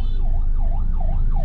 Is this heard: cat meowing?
no